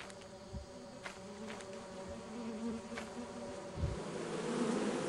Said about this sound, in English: That's how you transport bees!